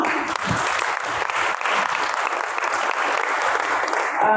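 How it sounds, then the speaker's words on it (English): Sustained audience applause at a gender agenda investment event, steady dense clapping from a crowd filling the room for several seconds without pause. "Please stand up and just wave and let's clap for her."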